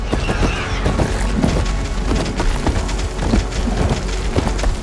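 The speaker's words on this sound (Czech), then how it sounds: "Tak je to bouře." Thunderstorm rain in the video game Horizon Forbidden West, a steady loud downpour hissing across the whole clip with heavy drops and low rumbling thunder underneath, no voices.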